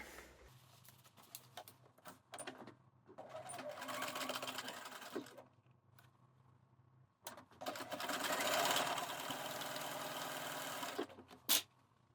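A sewing machine stitches the side seam of trousers in bursts, running for a few seconds, pausing, then running again in a longer steady whir, with brief handling sounds between runs.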